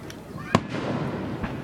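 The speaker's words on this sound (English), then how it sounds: "when they set off all the fireworks" Fourth of July fireworks burst in a sharp, loud bang near the middle, with a fainter thump near the end over a steady crowd murmur.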